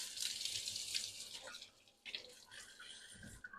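Water from a kitchen sink tap runs in a steady hiss and splash, close and fairly soft, with a brief break partway through and faint handling sounds.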